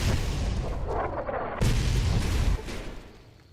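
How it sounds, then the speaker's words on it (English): Gunfire aimed at the player in Fallout: New Vegas, loud booming shots and blasts in quick succession, with a heavy burst midway that cuts off and fades near the end. "Are they shooting at me? I think they're shooting at me."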